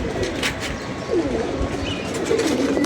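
Pigeons coo in a low, steady murmur of overlapping calls that carries on throughout, close by, with no talk over them.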